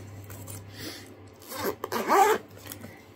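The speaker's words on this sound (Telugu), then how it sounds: "దీనికి జిప్ వేసేద్దాం" A bag's zipper is pulled closed in a brisk rasping run, with softer rubbing and handling before it, close up and with no talk.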